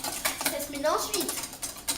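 A spoon scrapes and clinks quickly in a bowl while ingredients are mixed, in quick irregular taps as voices talk nearby.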